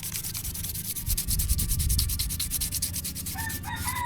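Sandpaper rubs rhythmically across a rusty steel clutch plate, close and scratchy strokes in quick succession, with a rooster crowing faintly in the background.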